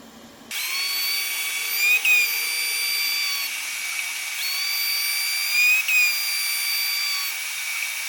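A Sparx skate sharpener running on an ice skate blade, a high whirring grind that starts abruptly and holds steady, with the pitch shifting slightly as the wheel passes along the blade twice.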